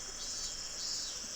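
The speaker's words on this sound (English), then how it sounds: "The cries of the cicadas surrounded me" Dense cicada cries fill the air in the visual novel game Higurashi When They Cry Kai, a steady shrill insect drone running unbroken and fairly loud throughout, with no voices.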